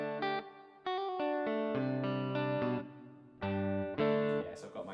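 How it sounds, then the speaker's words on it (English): Electric guitar played through a Tech 21 FLY Rig RK5 with heavy reverb set for a big hall or cave sound, a run of sustained chords and notes ringing out with long, washy tails, loud and alone. "it sounds like now we're in a big hall or in a cave"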